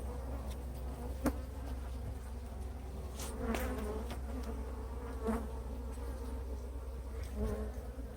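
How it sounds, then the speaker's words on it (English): Honeybees in a hive box buzz in a dense, steady drone close to the ear, with individual bees' buzzes briefly rising and fading over the top. "this has a lot of bees in it."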